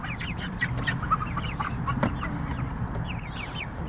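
Two-month-old pure parrot beak aseel pullets clucking steadily in a pen, several soft overlapping clucks over a constant background hum, close by with no talk.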